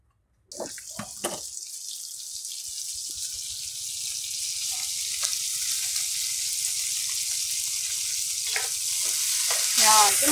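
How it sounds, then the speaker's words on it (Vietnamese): Finely cut tofu being fried crisp in a pan for a vegetarian dish starts with a few light clinks, then a loud, steady sizzle and hiss that builds slightly over ten seconds. "Ngày hôm nay là bắt đầu mình chiên. Mình chiên giòn."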